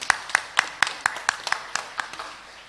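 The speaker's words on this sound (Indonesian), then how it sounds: "Tepuk tangan ini boleh." An audience at a children's Reog Ponorogo performance claps in a steady run of about a dozen sharp, evenly spaced claps, close and fairly loud, fading slightly toward the end.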